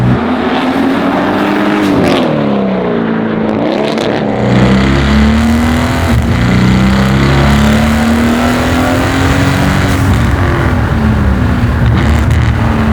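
A 1,000 hp twin-turbo AMG engine roars steadily under load, its pitch sweeping up and down as it accelerates and shifts, loud and close throughout.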